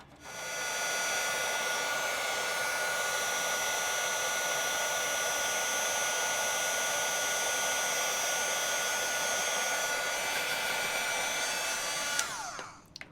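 A heat tool blows steadily on embossing powder on a card, a loud, even, continuous whirring hum lasting nearly the whole stretch before cutting off near the end.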